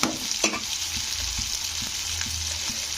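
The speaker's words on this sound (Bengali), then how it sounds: "টমেটোটাকে একটু কষে নিতে হবে যতক্ষণ না টমেটোটা নরম হয়ে গলে যাচ্ছে" Tomato sautéing with ginger in a hot pan for jhinge aloo posto, a steady bright sizzle and frying hiss with a few soft stirring scrapes, close and continuous with no talk.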